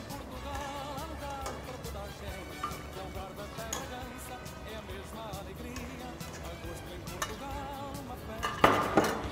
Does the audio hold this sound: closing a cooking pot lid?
yes